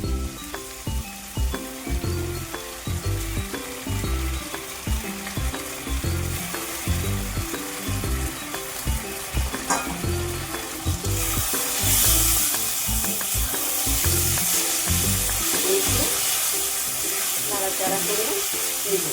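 Washed rice sizzles and fries in a hot pan for fish head muri ghonto, a steady crackling hiss with occasional stirring scrapes that swells louder midway.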